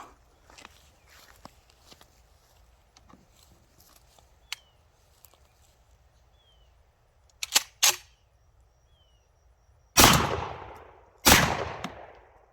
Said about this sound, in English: let's give this thing a death punch. Let's get this shotgun out.